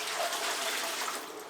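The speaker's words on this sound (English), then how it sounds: "I'm getting some cool water to fill the canner with" Cool tap water gushing steadily into a pressure canner for home-canning diced tomatoes, a close, continuous splashing rush with no pauses.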